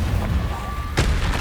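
A Confringo blasting spell goes off in the Hogwarts Legacy video game as a single loud, sharp burst about two-thirds through, over a steady rumbling game soundscape with a faint tone before it.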